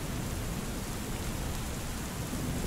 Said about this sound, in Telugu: వర్షం విపరీతంగా కురుస్తోంది.